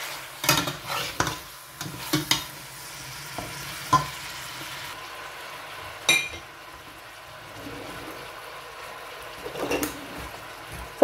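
Chicken is stirred with tomatoes and green chilies in a pot for chicken pulao biryani. A spoon scrapes and knocks against the metal in uneven strokes over a soft, steady sizzle, with no talking.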